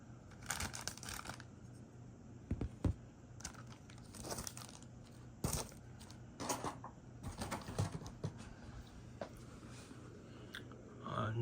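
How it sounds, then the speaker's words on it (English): Plastic wrap being peeled and crinkled off a Gemini 200 die-cast UPS 757-200F model plane, irregular close crackles and rustles in clustered bursts with brief pauses between them. "First, gotta take the plastic off."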